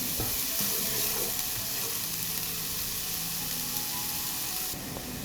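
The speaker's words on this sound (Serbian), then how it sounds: "Na zagrejano ulje dodajem luk. Pržim kratko, samo da omekša." Onion softening in hot oil in a frying pan, a loud, steady close sizzle with faint stirring scrapes underneath, continuous for a few seconds without speech.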